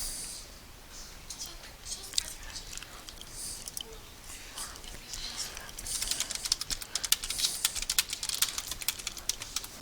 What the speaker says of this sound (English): Sorry about my typing again.